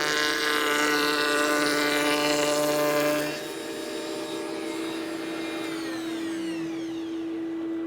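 A router table cuts a slot along the edge of a wooden piece. It sounds like a loud, high tonal motor whine that drops in pitch after a few seconds and keeps running steadily, with no voices.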